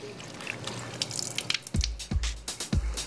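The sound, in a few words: rinsing catfish pieces under running tap water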